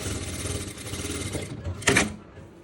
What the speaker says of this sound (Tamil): டபுள் ஸ்டிச்சு சீமுக்கு இது மேலே இன்னொரு ஸ்டிச் போடணும்